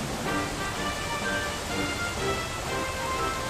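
A waterfall in the Dragon Quest XI video game, playing as a steady, loud, dense rushing roar with no breaks, like heavy rain or surf, and no talking.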